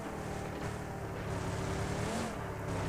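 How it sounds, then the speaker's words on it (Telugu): An old, battered car driven in a battle-royale video game, a steady engine drone rumbling continuously at moderate level with no voices over it. "డొక్కు కారు పట్టుకొని వస్తున్నా."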